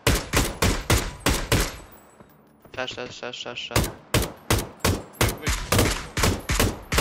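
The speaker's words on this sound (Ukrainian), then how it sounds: "Ага, по ним стріляють." Loud, rhythmic gunfire in a squad match of a video game on the Erangel map cracks repeatedly in quick succession, pausing briefly before resuming; a voice speaks during the lull.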